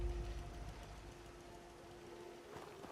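Steady rain in the Fallout 4 video game, a continuous soft hiss of drops falling without a break, with a low constant hum running underneath and no voices.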